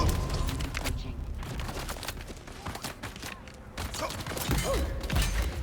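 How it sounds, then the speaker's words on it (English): Rapid bursts of gunfire and explosions from the video game Dune: Awakening crackle and thud in dense, overlapping volleys with loud booms, continuing for several seconds during a solo lab run, with brief shouts mixed in. "Never seen so many explosions."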